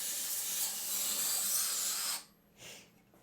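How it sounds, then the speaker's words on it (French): Liquid poured onto an overheating PC processor under a running benchmark crackles and hisses as it evaporates, a steady close spray-like sizzle that cuts off abruptly near the end, followed by a brief fainter puff of hiss. "Ça crépite, on entend tout le liquide s'évaporer."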